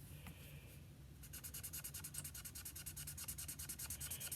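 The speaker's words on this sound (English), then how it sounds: "I'm just simply going to take a few seconds to color over it" A colour lifter marker's nib tip rubbed back and forth over card paper, making a rapid, steady scratchy stroking that starts after a quiet moment and continues in close, even rhythm.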